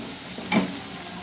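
Paste of ginger, garlic, green chilli and Kashmiri chilli being fried in a pan for an omelette egg curry, a soft steady sizzle with one brief louder hiss as it is stirred.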